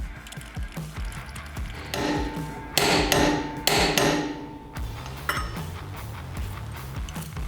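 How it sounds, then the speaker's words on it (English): A hammer taps a crankshaft key into place on a Predator 420cc hemi go-kart engine, a cluster of sharp metallic strikes in the middle between quieter clinks and handling sounds. "I install the crankshaft key and tap it into place"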